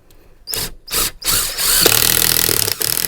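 A power drill drives 38mm self-drilling, self-tapping screws into wood and metal cladding in a camper van conversion, loud in short bursts that stop and start, then one long run of continuous whirring.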